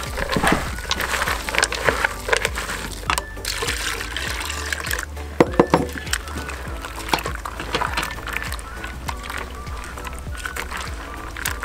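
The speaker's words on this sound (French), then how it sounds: "tu écrases et il y a encore un peu de jus qui sort" Juice drips and trickles out as fruit is crushed and kneaded through a funnel strainer at a campsite, a soft wet patter running steadily throughout with faint handling noises.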